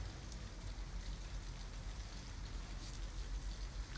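Steady rain in the game Detroit: Become Human, a dense, even hiss of falling drops that continues without a break for a few seconds, with no voices over it.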